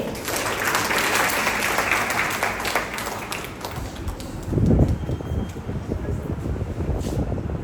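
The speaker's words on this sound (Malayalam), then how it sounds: "നല്ലൊരു കൈയടി കൊടുക്കൂ." Sustained applause from an audience at a diocese women's association general body meeting, a dense steady wash of clapping that runs the whole time, with a brief louder swell midway.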